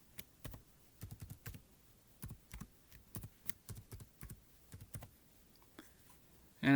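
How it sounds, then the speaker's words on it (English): Typing on a computer keyboard, a close, quiet run of irregular key taps in small clusters across several seconds, with no talking. "I just type in my name there"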